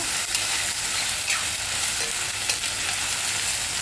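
Tomatoes frying in a pan for egg millet noodles, a steady loud sizzle with faint stirring scrapes, no voices.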